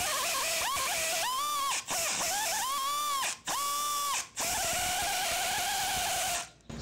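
During Honda CRX trailing arm and brake work, a power tool spins a shaft in several short, loud whirring bursts. The close whine rises and dips in pitch between brief gaps, with no one speaking.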